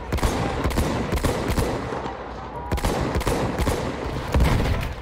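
Rapid bursts of gunfire from Battlefield 1, a World War I shooter, with repeated sharp volleys over a dense, loud battlefield din and no talking.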